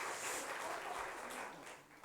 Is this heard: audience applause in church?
yes